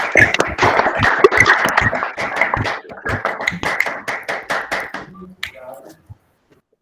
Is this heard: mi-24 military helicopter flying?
no